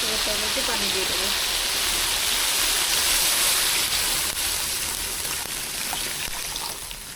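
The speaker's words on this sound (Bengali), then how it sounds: "এবার তার মধ্যে পানি দিয়ে দেবো।" Water is poured into a cooking pot of sautéed, boiled potatoes, making a continuous close gushing splash that slowly fades.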